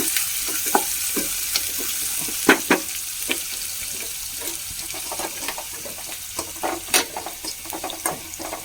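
Ginger, green chili and curry leaves frying in hot oil in a pan, a close steady sizzle broken by frequent sharp scraping clicks of stirring.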